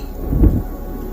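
Steady rain from a thunderstorm with a low rumble swelling briefly in the middle, like distant thunder under the downpour.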